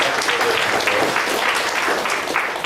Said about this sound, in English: With that note, a round of applause for Bharadwaj Sheshadri.